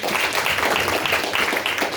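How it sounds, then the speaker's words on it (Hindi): An audience at a Braille Day quiz competition claps steadily and enthusiastically for a participant, a dense, even wash of applause throughout. "बबीता के लिए जोरदार ताली।"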